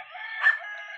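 White chickens belonging to a father in the Philippines give a single clear crow-like call lasting about a second, close by and fairly loud, peaking midway with no talk over it.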